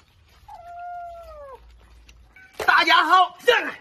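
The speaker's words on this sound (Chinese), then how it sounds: "猫咪。" A cat gives a single clear, drawn-out meow that bends downward at the end, heard close by; a person then starts talking right after it.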